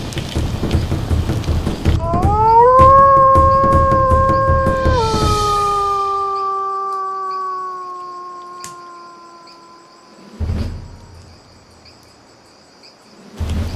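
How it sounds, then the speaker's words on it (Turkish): A wolf's long, thin wavering mating howl rises and holds for several seconds before slowly fading, with faint rustling noise around it. "kurtların çiftleşirken çıkardığı ince ses"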